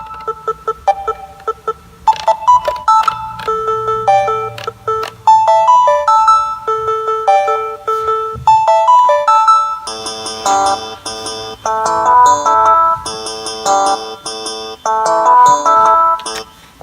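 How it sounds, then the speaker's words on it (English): Yamaha Tenori-on grid sequencer cycles a melodic pattern of chiming synth notes whose durations shift from short plucks to longer held tones, thickening into a denser, brighter texture halfway through. "Change the length of each individual sound."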